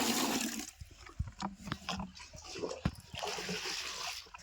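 Cattle drinking water from a trough, with faint, uneven splashing and sloshing that comes in short bursts, then louder running water at the start and end.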